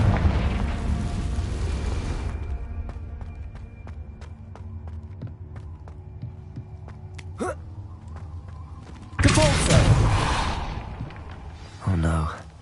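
The Confringo explosion spell goes off in the game Hogwarts Legacy, a loud roaring blast that erupts after a quieter stretch of faint ticks and a short whoosh, then fades before a second, shorter burst near the end.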